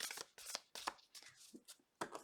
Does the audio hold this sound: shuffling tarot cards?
yes